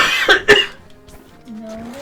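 A single person coughs twice in quick succession, close and loud, followed by quieter murmuring and a brief tonal vocal sound.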